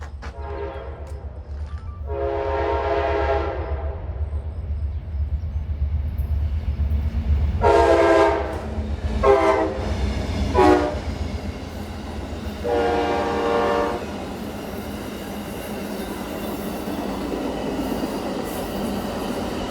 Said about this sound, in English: here comes the Amtrak Floridian